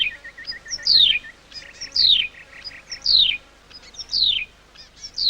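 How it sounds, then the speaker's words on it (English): A wedgebill repeats its call about once a second, a bright descending whistled phrase introduced by quick chipping notes, loud and close with quiet gaps between phrases and no one speaking. "One of the first birds she tapes is the wedgebill. Its call dominates at this time of day."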